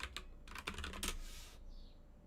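Quick bursts of keystrokes clatter on a computer keyboard, a short run of close, quiet clicks that stops abruptly, leaving near silence.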